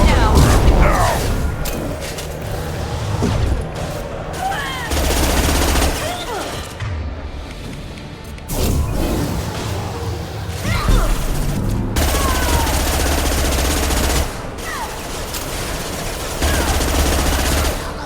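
Gunfire in Mass Effect 2: repeated loud bursts of automatic weapon fire with sharp cracks and booms, broken by short pauses, amid game combat noise with voices now and then.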